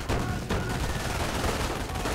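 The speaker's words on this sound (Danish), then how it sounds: "Der sidder bare to MG's og skyder på dem." Two machine guns firing together in the strategy game Company of Heroes, a dense, unbroken rattle of rapid shots that is loud and close and carries across the whole moment with no break, and no voices over it.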